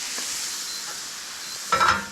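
Sauce for asparagus pasta primavera sizzles and bubbles in a hot pan, a steady close hiss with a louder burst of frying near the end, no voices.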